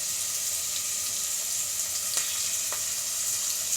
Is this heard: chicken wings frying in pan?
yes